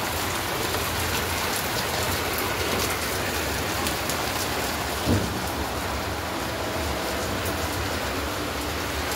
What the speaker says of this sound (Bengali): আর বাইরে নেমেছে মুষলধারে বৃষ্টি।